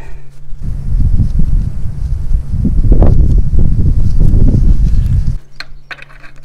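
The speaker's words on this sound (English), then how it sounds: "It's very windy around here, so hopefully the audio is alright." Heavy wind buffets the microphone in loud, rumbling gusts for several seconds, with faint rustling and clicks, then cuts out abruptly.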